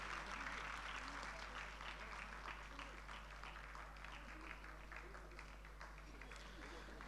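A crowd applauds steadily at a Gujarat community service committee function, a dense, even wash of clapping that holds for several seconds while a voice talks over it.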